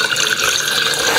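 Water is poured into a jar holding sprout seeds for soaking, a steady close splashing stream that runs the whole time without pause.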